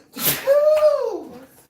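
A single sharp sneeze, close and loud, with a quick inhaled lead-in and a trailing voiced release.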